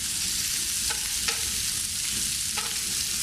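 Pasta salad ingredients sizzle and simmer in a single pan, making a constant crackling hiss. A few light utensil taps sound near the start and again near the end, and no voice is heard.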